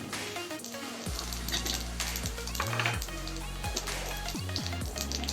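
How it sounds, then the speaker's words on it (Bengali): Dried red chilies and cumin seeds sizzle steadily in hot oil as a tempering for a Bengali pabda fish curry, with a continuous close frying hiss and occasional light utensil clinks under a musical background. "শুকনো লঙ্কা ফোড়ন দিয়ে দিলাম, আর ফোড়ন দিয়ে দেবো একটু জিরে।"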